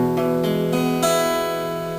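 An open chord on guitar rings out in one sustained strum, with a lighter touch on the strings partway through, leaving a full, bright, happy-sounding chord that fades gently over two seconds with no talking.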